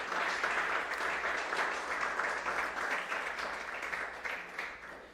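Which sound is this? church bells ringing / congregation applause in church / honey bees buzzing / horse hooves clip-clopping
congregation applause in church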